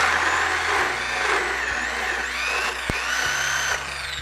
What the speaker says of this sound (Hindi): तो इस तरह से आप इसको ड्रिल बिट कर देंगे।